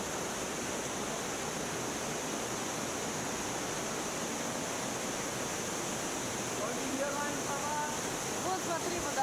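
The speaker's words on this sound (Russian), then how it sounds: "Вот смотри, водопад." Waterfall in Sapadere Canyon near Alanya, Turkey: a steady broadband rush of falling water fills the whole clip, constant and fairly loud, with faint birdsong chirps rising near the end.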